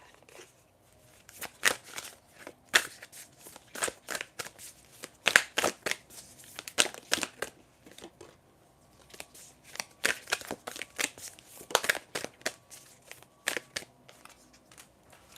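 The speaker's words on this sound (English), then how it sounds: "I'm just going to shuffle to see if I can get one more from the Oracle deck that I'm using." Oracle card deck being shuffled by hand, with repeated quick bursts of riffling and sliding cards in irregular clusters, close and fairly quiet, with short pauses between runs.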